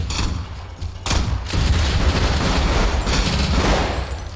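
Gunfire rattles in a Roblox survival game set on a decaying winter planet, with loud rapid bursts that run almost continuously and brief gaps between volleys.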